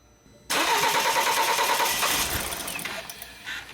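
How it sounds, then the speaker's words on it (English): A BMW X3 engine cranks steadily without catching, a loud continuous starter churn that begins abruptly after a brief quiet moment and gradually fades and turns rougher toward the end. "Now, when it's cranking, try to give it gas a little bit."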